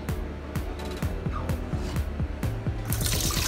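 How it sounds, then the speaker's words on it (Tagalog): Water drains from rinsed broccoli and cauliflower in a kitchen strainer, with rapid patters of drips and trickles against a steady wet background, close and continuous. "ilagay natin sila sa strainer. Ayan, para matanggalan ng tubig."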